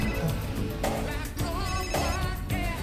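A mobile phone rings loudly and close by, repeating a bright electronic ringtone phrase in regular bursts over about three seconds, with no one speaking.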